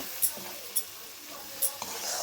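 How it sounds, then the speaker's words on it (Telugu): Sesame powder is stirred into a cooking dish, with a spoon scraping around the pan in a few distinct strokes over a soft sizzling background. "ఈ నువ్వు పొడి వేసాం కదా, ఇప్పుడు దీన్ని శుభ్రంగా దాని అంతటికి కలిసేటట్లు మనం కలపాలి"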